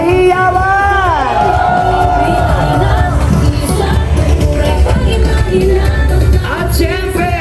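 A loud crowd cheers and whoops at a street parade of government workers and community groups, the roar sustained throughout with shrill shouts and an announcer's amplified voice riding over it.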